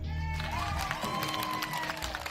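Light applause from a studio audience at a Filipino television show, a soft, steady patter of clapping heard at a distance for a couple of seconds.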